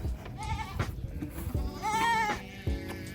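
Goats in a farm pen bleat in several wavering calls, fairly close, with a few louder cries spaced across a few seconds over faint background rustle.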